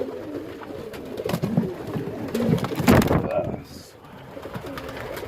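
Pigeons coo in low, soft repeated calls close by, mixed with shuffling and handling noises, while a person talks over them.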